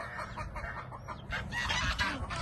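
A chicken clucks amid rustling and scuffling as people try to catch it in a yard, the fowl sounds fairly faint against general background noise, growing busier toward the end.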